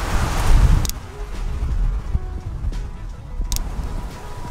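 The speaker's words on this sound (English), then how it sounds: "Pretty windy" Strong gusts of wind buffet the microphone, loud at first and then settling into a steady rumbling blow, with a couple of brief crackles.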